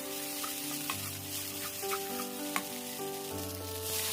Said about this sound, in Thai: ผัดไปเรื่อยๆ จนสุก แล้วใส่เส้นมักกะโรนีลงไปครับ